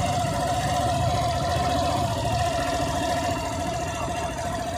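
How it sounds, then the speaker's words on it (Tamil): A Suzuki Avenis BS6 scooter engine with a starting trouble and slow-speed fault idles close by, a loud, steady mechanical drone with a fine rapid pulsing that holds even throughout. "ஒரே அடியில் வந்து வண்டி வந்து ஸ்டார்ட் ஆகுது. இதே ஐட்லிங் வந்து நமக்கு வந்து போதும்னு நினைக்கிறேன்."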